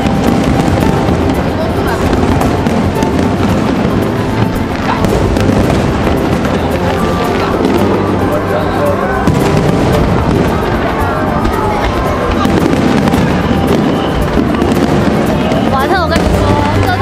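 Tanabata fireworks over Dadaocheng riverside in Taipei, a rapid barrage of booms and crackles echoing continuously above a large crowd, with people chatting nearby throughout.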